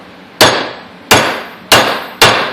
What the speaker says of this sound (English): You get something like this, and you just hammer this down.